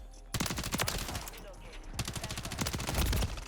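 A BAL 27 rifle in Call of Duty Modern Warfare 3 fires close by in two fast automatic bursts, a string of rapid sharp cracks, a brief pause, then another rattling volley.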